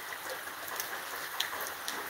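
Heavy rain pours down steadily at a home in Vietnam during a historic downpour, a dense continuous hiss with occasional louder drop splashes close by, flooding the front yard.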